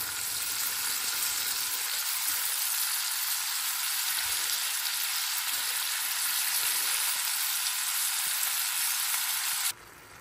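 Vegetable bhaji frying in a pan on medium heat, a steady close, loud hiss of oil that holds without a break for about ten seconds, then drops off sharply at the very end.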